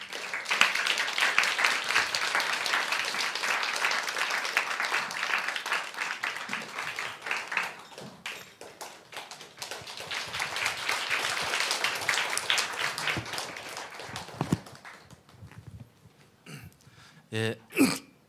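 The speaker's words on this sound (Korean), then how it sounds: "우리 대표님 나오실 때 큰 박수로 환영해 주시면 감사하겠습니다" An audience gives a speaker a warm welcome at a Christian gathering, with several seconds of lively clapping that thins out and gives way to someone talking, with a few sharp knocks near the end.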